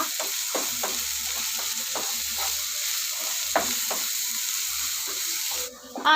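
An egg pizza mixture seasoned with salt hisses steadily in a pan while a utensil stirs and scrapes it in repeated, close strokes. The sound cuts off abruptly near the end.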